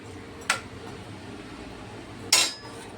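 A metal lid is set on a pot of cooked vegetables in a home kitchen, giving two sharp clinks about two seconds apart over a quiet background.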